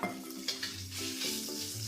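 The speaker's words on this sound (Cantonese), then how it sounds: "落翻多少油，將肉碎倒過去爆香佢。" Minced meat sizzles in a hot oiled wok while a spatula scrapes and stirs it in a few quick strokes, close and fairly quiet.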